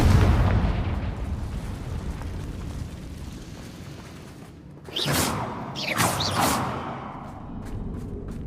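A Confringo fire spell explodes in the Hogwarts Legacy video game, a deep rumbling blast that rolls on and then breaks into two sharp crackling bursts around the midpoint over a continuous low roar, with no one speaking.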